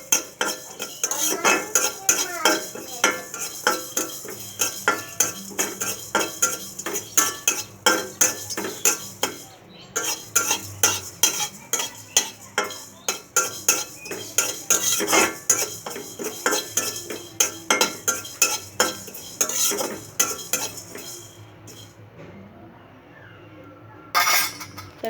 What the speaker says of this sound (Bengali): এখন পাঁচফোড়নটা ভেজে নিচ্ছি।